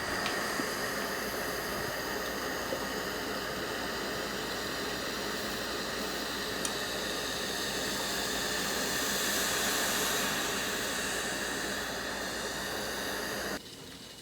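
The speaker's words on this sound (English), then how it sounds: "let the steam do the work, not the heat of the iron. So I'm just going to hover the iron above the fabric." A steam iron hovers over acrylic yarn fabric and releases a long, even hiss of steam. The hiss runs steadily for about thirteen seconds, swells slightly midway, then cuts off abruptly.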